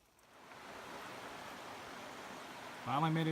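Hurricane Creek on the Ozark Highlands Trail gives a steady broadband rush of flowing water that swells in after a quiet start and continues evenly, with a brief tonal sound entering near the end.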